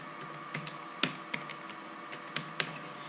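Someone types a root password on a computer keyboard during a Linux install, giving scattered key clicks with a few louder taps over a steady background hum, close and with no voices.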